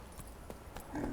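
Horse Roach galloping in The Witcher 3, a quick run of rhythmic hoof clip-clops with faint game ambience underneath.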